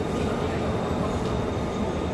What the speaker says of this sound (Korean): 저기 또 기차가 하나 떠나네요.